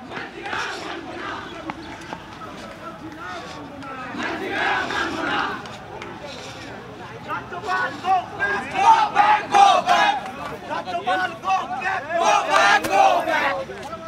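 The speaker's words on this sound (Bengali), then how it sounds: "গো ব্যাক স্লোগান তুললেন তারা।" A crowd of protesters chanting slogans at a Governor's convoy in Siliguri, rising and falling in loud rhythmic shouts with babble and traffic noise underneath, growing more insistent toward the end.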